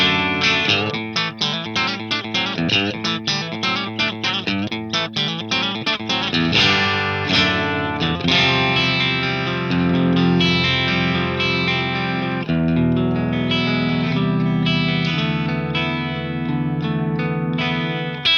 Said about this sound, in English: we're going to dial in some kind of classic rootsy kind of country guitar tones